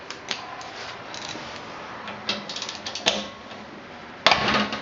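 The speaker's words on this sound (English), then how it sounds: "So we're going to swap over to a ratchet." A ratchet clicks in short uneven bursts while loosening muffler bolts on an Onan B43G engine, close and fairly faint, ending in a louder scraping rattle.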